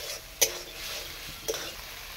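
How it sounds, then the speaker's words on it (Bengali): Spiced soybean curry with a spoon of yogurt is stirred in a pan, giving a quiet, steady scraping with two sharp utensil clinks against the pan. "আবার খানিকক্ষণ নেড়ে নেব।"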